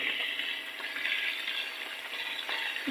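Diced potatoes and onions sizzle steadily in hot oil in a pan, a continuous close, bright frying hiss with faint stirring underneath and no talk.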